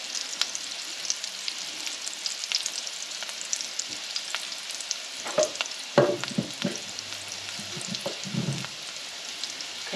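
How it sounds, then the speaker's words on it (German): Quark dumplings with raisins fry slowly in a pan with a steady, even sizzle, broken by a few soft clicks and scrapes around the middle. No one speaks. "So, wie gesagt, schön langsam vor sich hin braten lassen."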